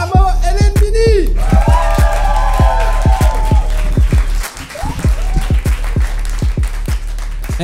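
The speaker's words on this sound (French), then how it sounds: "faites un tonnerre d'applaudissements pour Oussama El Mini" A comedy club audience applauds and whoops as a stand-up comedian is introduced, over a steady, heavy thumping beat that pulses through the whole stretch.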